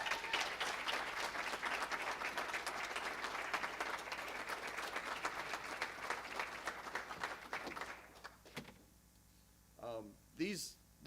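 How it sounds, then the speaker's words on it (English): An audience at a school district board meeting gives sustained applause for an art contest winner, steady for about eight seconds before fading out, then a few brief voices follow. "Give Destiny a round of applause."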